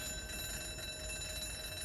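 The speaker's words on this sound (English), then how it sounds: "will someone get that blasted alarm switched off?" A continuous electric alarm bell rings steadily after a break-in, a dense unbroken metallic clatter with no pauses, heard alone without voices.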